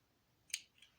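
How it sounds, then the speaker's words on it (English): Scissors snip sewing thread once, a short crisp cut followed by a faint second snip, close and quiet with no talking. "Clip that off."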